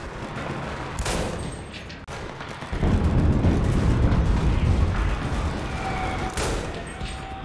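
Explosions and gunfire in the World War II shooter game Enlisted, a rumbling barrage with sharp bursts and heavy blasts rolling on continuously, loud and close.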